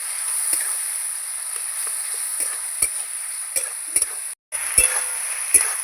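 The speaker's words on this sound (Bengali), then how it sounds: "এবার ভালো করে আমি আলুর সঙ্গে মশলাটা কষাতে থাকবো" Spice paste and potatoes being fried and stirred in a pan, with a steady sizzle and repeated scraping strokes of a spoon against the pan, close by and with no talking.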